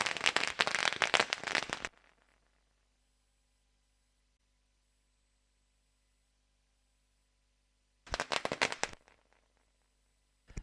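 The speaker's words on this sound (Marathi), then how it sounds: "फटाक्यांची आतिषबाजी इथे होत आहे" Firecrackers and fireworks going off at a sports tournament prize distribution ceremony: a dense, loud burst of rapid crackling pops for about two seconds, then quiet, then a shorter crackling burst near the end.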